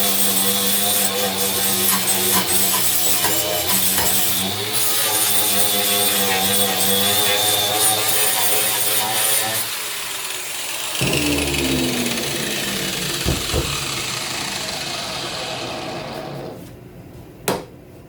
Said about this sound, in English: I decided to just come through with a flap wheel and grind this off quick